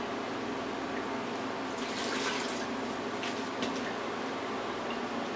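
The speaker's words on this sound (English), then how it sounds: "Now I need to add some water." Water from a small glass pours into a pressure cooker holding potatoes, a steady close splashing fill over a constant background hum, brief and fairly quiet.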